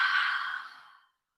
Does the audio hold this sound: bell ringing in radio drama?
no